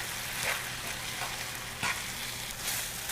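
Fried rice being stirred in a pan with rice vinegar and ginger, a continuous gentle sizzle broken by a few brief scrapes of the spoon, with no speech.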